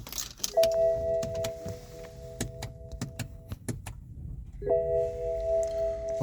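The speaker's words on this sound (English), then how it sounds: "Insert the ignition key." An ignition key goes into the ignition of a 2010 BMW X5 E70 50i, giving a run of sharp clicks and rattles. Two sustained electronic chime tones sound, one early and one near the end, in a quiet cabin.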